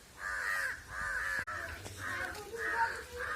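A crow caws repeatedly, about five harsh calls in a steady rhythm, fairly close and moderately loud against a quiet outdoor background.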